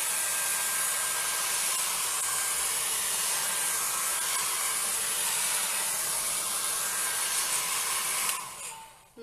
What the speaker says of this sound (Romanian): După care voi veni cu feonul să usuc ceea ce a rămas pentru a începe construcția